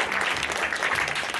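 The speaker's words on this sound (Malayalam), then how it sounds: "എല്ലാ ടീമംഗങ്ങൾക്ക് നല്ലൊരു ക്ലാപ്പ് കൊടുത്തേ എല്ലാം" Audience applause for the teams at the Kumbanad Convention, steady and dense clapping that fills the room without a break, with no talk over it.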